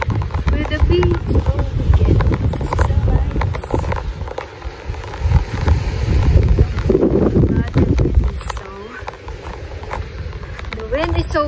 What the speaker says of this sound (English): The wind is so windy.